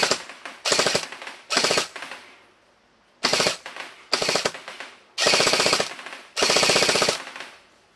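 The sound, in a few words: SLR CQB M4 gel blaster firing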